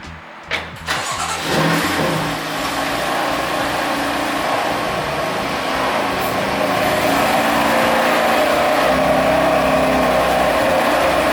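A BMW F82 M4 engine sounds close by as the car pulls away, starting with a few sharp bursts and then settling into a steady, loud mid-pitched drone that holds for about ten seconds.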